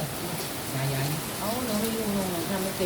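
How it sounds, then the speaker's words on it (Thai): Steady rain falls throughout, a dense even hiss that holds at one level, while people talk over it in a casual outdoor meal setting. "ฝนตกฝนตก"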